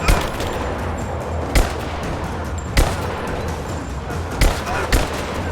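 Gunfire in Rise of the Tomb Raider during a fight at a tower, sharp single shots cracking out at irregular intervals over a constant rumbling battle backdrop.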